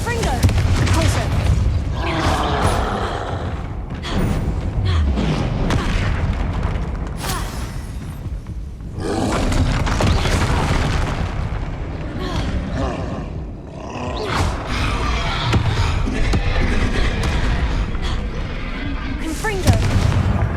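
Rapid spell blasts in Hogwarts Legacy, Confringo explosions mixed with Incendio fire and Repulso force bursts, booming one after another in loud, dense volleys with roaring impacts and brief gaps, a voice calling out at times.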